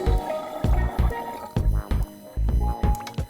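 Water splashing and dripping in a video game puzzle, with irregular wet plops and drips arriving in short bursts, clear and fairly close, with no talk over it.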